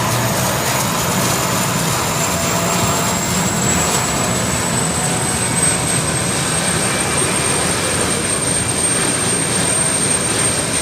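An Embraer E195-E2 jet at London City Airport gives a loud, steady engine roar with a slowly rising high whine throughout, no speech.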